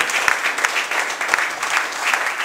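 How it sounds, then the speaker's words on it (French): A crowd at a magic club hypnosis show applauds loudly and continuously for a few seconds, a dense wash of clapping with occasional sharper individual claps. "On peut les applaudir tous les trois très très fort,"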